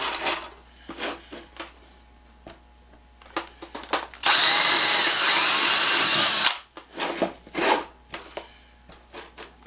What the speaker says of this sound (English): Take a 7/32 drill bit.